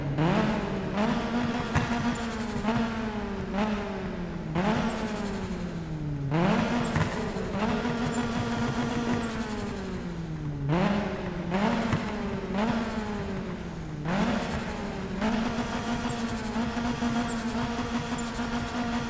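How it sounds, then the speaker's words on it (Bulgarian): A small-engined Toyota AE86 Hachiroku in Need for Speed 2015 revs hard, a buzzy, raspy engine note rising and dropping in repeated surges over about twenty seconds, loud and close with no voices. "Това нещо е с супер малкия двигател, но просто чуете този звук."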